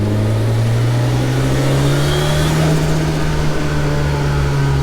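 A Ford RS200 Group B rally car engine holds a loud, steady drone and rises slowly in pitch as the throttle opens. It is heard from close by, with no talk.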